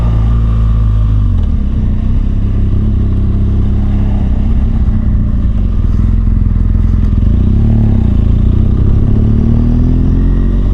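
A BMW R1200GS Adventure motorcycle ridden slowly, its engine giving a steady, close, continuous drone with faint mechanical clatter throughout.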